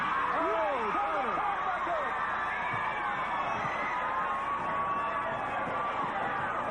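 A wrestling crowd at a 1987 Super Bouts match between Robert Gibson and Arn Anderson roars continuously, with loud cheering, scattered shouts and whistles filling the arena throughout.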